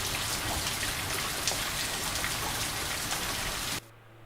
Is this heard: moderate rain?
yes